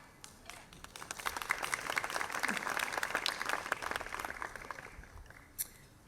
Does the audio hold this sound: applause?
yes